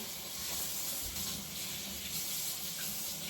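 Water runs steadily from a kitchen tap as meat is rinsed under it, a continuous hissing splash at moderate volume with no talking.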